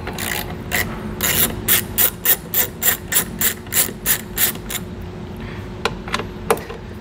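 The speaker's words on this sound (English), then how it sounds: "We're gonna be removing the two screws that are holding the taillight in." Ratchet socket wrench clicking in rapid bursts while backing out the screws that hold the taillight on a 2012 Subaru Outback, with the ratchet nearby and loud, ending in a few slower isolated clicks.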